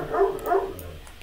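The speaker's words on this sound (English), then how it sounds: "That's my dog." A dog barks twice in quick succession at moderate distance indoors, followed by quieter room tone, during a session making voxel models for classic Doom.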